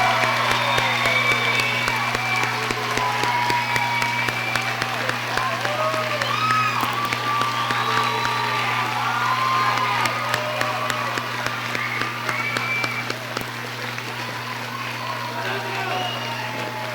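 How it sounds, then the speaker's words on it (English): Loud, continuous applause with cheers and whoops from a crowd fills an adult education commencement ceremony for the graduates, with a steady hum beneath it. "Let's give them a round of applause."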